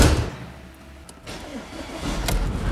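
An Audi A4 2.0 TFSI with a steering-wheel shimmy fault starts up and its engine runs with a low rumble, close by and fairly loud, with no talking.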